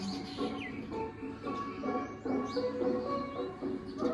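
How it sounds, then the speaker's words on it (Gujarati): Small birds chirp and call in a village setting in the morning, scattered bright tweets over a steady background murmur with faint low rumble throughout. "મસ્ત પક્ષીનો અવાજ આવે છે"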